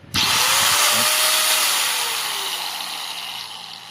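A 750 W Ingco corded angle grinder spins up abruptly, then runs with a loud, steady, harsh whine that sags slightly in pitch and gradually eases in level over a few seconds.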